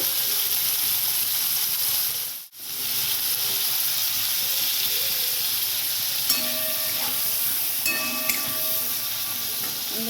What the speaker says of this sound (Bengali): আমি ছোটো ছোটো করে বেগুন কেটে ভাজতে দিলাম